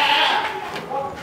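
A goat bleats loudly at a weighing scale during a livestock sale, its wavering cry mixed with nearby voices talking over it.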